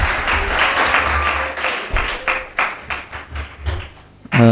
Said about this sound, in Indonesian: berikan tepuk tangannya kepada Dr. Andri